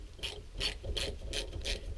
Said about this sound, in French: on va venir dévisser ici les 4 vis situées sur le dessus à l'aide d'une douille de 10